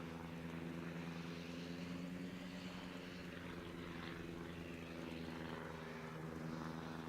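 Carrier aircraft engines in the naval combat game World of Warships, a steady low propeller drone with layered harmonic hum, continuous and moderately distant, no talk.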